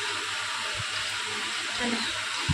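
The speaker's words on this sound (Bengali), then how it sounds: "চলো রাজু জল তোলা হয়ে যাক" Water runs steadily from a tap as a container fills, a close, continuous hiss and splash with a few low gurgles.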